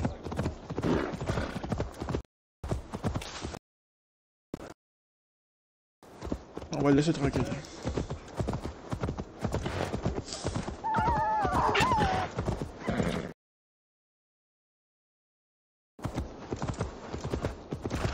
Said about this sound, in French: Allez, c'est parti mon cheval.